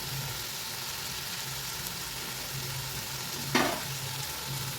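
Two tomatoes are mixed into frying masala for half a kilo of chicken biryani, a constant hissing sizzle with one brief scrape of a ladle stirring the pan.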